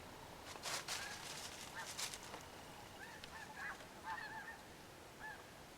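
Snow geese honk in flight during a duck hunt, heading toward a lake, a loose chorus of overlapping calls at moderate distance, with a few brief noise bursts early on.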